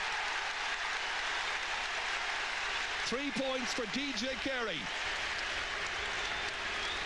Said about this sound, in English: Big roar from the crowd